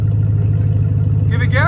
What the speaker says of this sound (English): You hear the idle? Nice idle too.